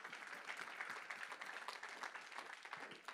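An audience at a French-language conference applauds to acclaim the Lord, a sustained, fairly faint patter of many hands clapping from a distance.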